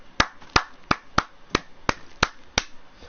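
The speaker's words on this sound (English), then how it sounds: "Round of applause for John." Eight sharp, evenly spaced claps at a steady beat, close by and crisp, sound like a single person clapping rather than a full crowd.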